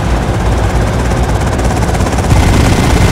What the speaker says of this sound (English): The chopper.